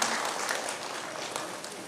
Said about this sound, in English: let's give a huge round of applause and welcome our Honorable Chief Guest